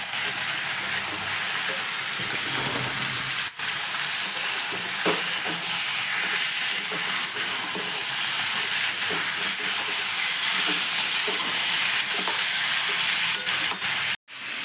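Rice and egg fry in a pan with a loud, steady sizzle that runs unbroken from start to finish, broken only by a brief clatter near the end.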